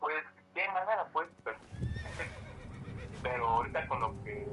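A horse whinnies in the Assassin's Creed video game, a short high neigh sounding under continuous talk and game background noise.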